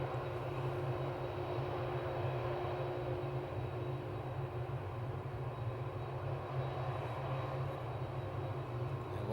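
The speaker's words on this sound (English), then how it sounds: "we kick off with the amazing 747 by KLM Cargo, operated by Martinair" A KLM Cargo Boeing 747 operated by Martinair roars at Amsterdam Schiphol airport, a steady, distant-sounding jet engine rumble that holds evenly throughout without any voices.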